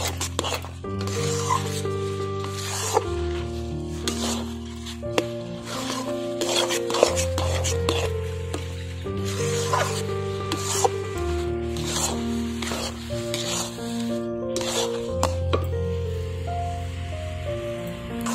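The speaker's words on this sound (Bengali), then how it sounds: "গুঁড়ো দুধটাকে দিয়ে আমি ভালো করে নাড়াচাড়া করে নেব।" Powdered milk is stirred into a Gobindobhog rice sandesh mixture in a pan, with steady scraping and rubbing strokes of a spoon under continuous background music.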